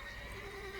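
A horse in The Witcher 3 gives a short, clear whinny, a single brief neigh with a rising then falling pitch, close and alone.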